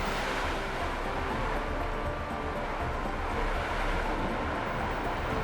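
Ocean waves crash against the coastal cliffs of Batu Pica on Biak, a steady, broad roar of surf that stays loud and unbroken throughout with no pauses between breakers.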